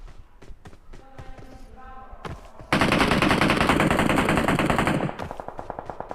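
Close, loud automatic gunfire from the battle-royale mobile game PUBG Mobile in a qualifier match: scattered single shots first, then a dense, sustained burst of rapid fire, then quicker spaced shots as it eases off.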